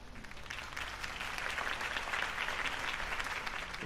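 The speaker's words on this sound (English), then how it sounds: "could have heard that applause" Steady crowd applause fills the scene after a mayoral campaign speech for Harvey Dent in Telltale's Batman game, dense, even clapping sustained throughout with no talk over it.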